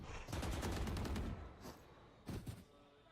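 Gunfire in the tactical shooter Valorant during a pro match: a dense burst of rapid shots for about a second, then a couple of short separate bursts, fairly close.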